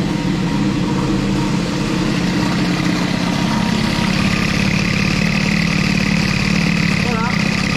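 Moped engine with an Airsal CPI 70 kit idling steadily, a continuous close, loud buzzing drone with a slight throttle rise near the end; someone speaks French over it.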